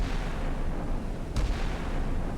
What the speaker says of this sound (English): they're going to turn that cannon and start firing